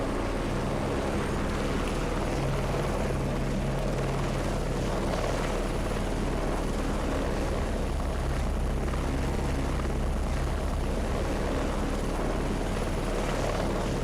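Support helicopter in a video game flying steadily close by, a loud continuous rotor drone with a low thumping hum that holds for the whole stretch without talk.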